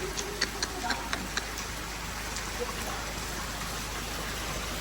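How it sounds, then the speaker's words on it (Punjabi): Heavy monsoon rain pours down in flooded Barnala, Punjab, a constant loud hiss of falling water, with a few sharp ticking drips tapping near at the start and faint talk underneath. "ਹੁਣ ਤਾਂ ਮੀਂਹ ਬਹੁਤ ਪਾਤਾ ਬਸ ਕਰੋ"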